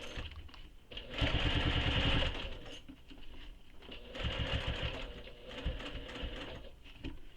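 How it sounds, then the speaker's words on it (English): A sewing machine stitches fabric around the curves of a bag, running in bursts of fast, steady mechanical whirring, with short pauses between runs while the fabric is pivoted. "lift the presser foot up with your needle down, take a stitch, pivot your fabric, and then continue doing that all the way around"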